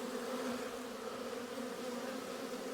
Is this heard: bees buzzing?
yes